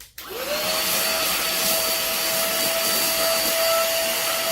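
A mini cordless handheld vacuum runs steadily with a loud, constant whine and airy rush, close up, with faint scattered rattling of rice grains being sucked in.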